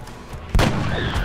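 A single sniper rifle shot in the video game XCOM: Enemy Unknown, one loud booming crack midway that rolls into a sustained echoing tail.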